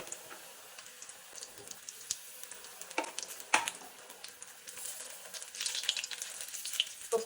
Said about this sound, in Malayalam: എണ്ണ ചൂടായിട്ടുണ്ട് ഇട്ട് കൊടുക്കാം